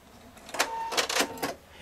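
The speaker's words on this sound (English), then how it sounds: "I hit my scissor button, it's gonna lock the stitch" A Pfaff Performance 5.0 sewing machine locking its stitch and then trimming the thread, heard close as a short run of mechanical whirring and clicking bursts, about three quick pulses in under two seconds.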